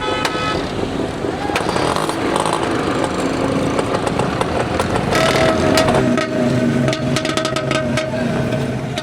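A four-seater rickshaw engine in Hyderabad runs loud and steady while riding from a stop, with a constant motorcycle-like rattle and drone mixed with traffic noise.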